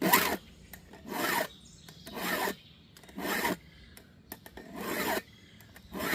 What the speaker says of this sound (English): So sharpening a chainsaw blade is this simple.